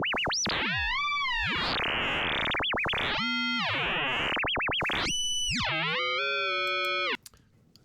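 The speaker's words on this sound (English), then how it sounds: "Sounds like frequency modulation." Synthesizer frequency modulation tones in MMMAudio, loud swooping chirps and bent, metallic pitches that sweep up and down over about seven seconds, then stop abruptly.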